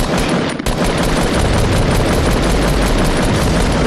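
Sustained automatic gunfire from a video game, loud and dense with continuous rapid bursts filling the whole stretch, a brief dip near the start, no talk over it.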